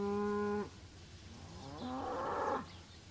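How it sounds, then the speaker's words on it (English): Cows on a railway line let out two low, drawn-out moos, the first clear and steady, the second rising and longer, heard close with nothing else going on. "Please move out of the way, you silly cows."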